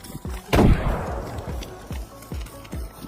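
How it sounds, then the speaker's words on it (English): A grenade blast in a first-person shooter game, one loud close boom with a decaying rumble, set among quick regular thumps that sound like footsteps or gunfire. "Confirmed, the explosion was under the ridge."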